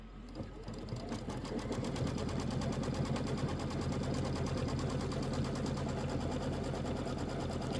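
Sewing machine stitching to tack down orange applique fabric on a quilt block, a steady rapid needle rattle that starts after a brief quiet moment and runs loud and continuous to the end.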